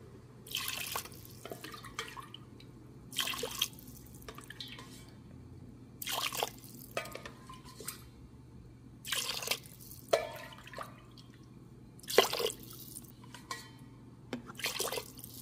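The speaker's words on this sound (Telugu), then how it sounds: "నేను సేమ్ కప్ తోటి 6 to 7 గ్లాస్ వాటర్ యాడ్ చేయడం అయితే జరుగుతుందండి" Water is poured from a cup into a cooking pot in about six separate splashing bursts, each a short quiet gush followed by a pause, with low room hum between.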